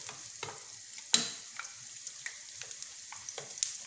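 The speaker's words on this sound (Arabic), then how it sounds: "نزيد نقلي معكم حبيبه واحده اخرى" Flower-shaped beignet dough fries in hot oil, giving a steady close sizzle broken by sharp scattered pops and spatters, with no voices.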